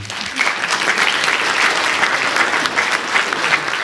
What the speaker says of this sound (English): come up here so we can clap for you